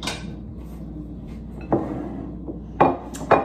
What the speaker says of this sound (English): I'm gonna grab a plate